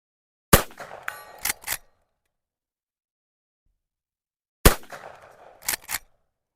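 Two sharp rifle shots from a Winchester Model 94 lever-action in 45 Colt, fired outdoors at steel targets, each followed by a metallic clang and lever-action clatter, separated by a few seconds of silence.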